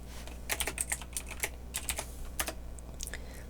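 Quick runs of computer keyboard typing, with closely spaced key clicks in short bursts and small pauses, near and quiet, no speech.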